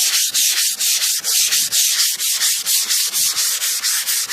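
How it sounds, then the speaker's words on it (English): Rapid, even strokes of sandpaper rubbing the paint of a 1988 Cadillac DeVille up close, a continuous rhythmic scratching with no talking. "Just keep sanding it down."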